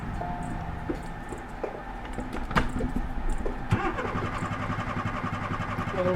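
A car engine cranking repeatedly while failing to start, with a stall and pedal pumping, grinding starter bursts and sputters at moderate level, no talk.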